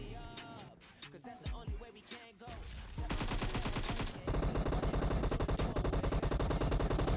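PUBG Mobile gunfire starts with scattered single shots and then builds into dense rapid automatic bursts that grow louder and more sustained toward the end.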